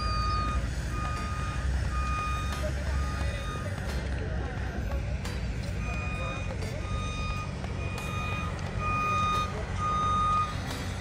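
Reversing beeps from a construction vehicle at a site near the Statue of Liberty, a steady repeating tone over a continuous low engine rumble and outdoor crowd murmur, with voices talking nearby.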